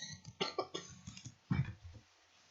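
A single sharp cough near the mic, with softer throat sounds and faint vocal noises before and after.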